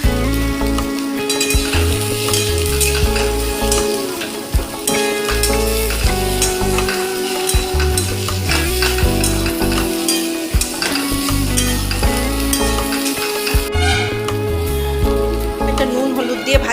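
Okra and potatoes stir-fry in a hot pan, with a loud, steady sizzle and repeated scraping and stirring strokes running throughout.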